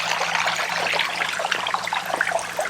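A shallow creek trickles and babbles steadily, water running over rocks close by, with a low engine rumble underneath from a four-wheel drive parked in the stream.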